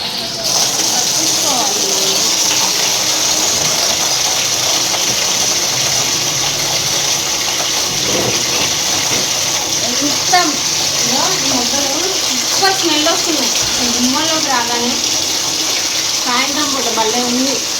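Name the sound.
water pouring onto plants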